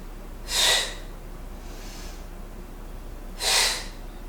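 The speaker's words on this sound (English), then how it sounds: "Inhale, push it back out. Exhale, draw it in." Two sharp, forceful breaths puff through the nose a few seconds apart during a yoga-pilates fusion exercise, close and clear over a quiet room.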